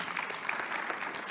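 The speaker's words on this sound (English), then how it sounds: "Can we clap hands for the minister, please?" An audience at a media briefing claps steadily and evenly for a minister, a brief burst of applause with no voices.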